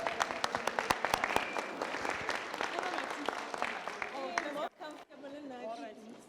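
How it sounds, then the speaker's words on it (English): An audience at a mentorship gathering breaks into steady applause, a dense patter of many hands clapping that fades out near the end as a speaker's voice takes over. "Can we give her a round of applause?"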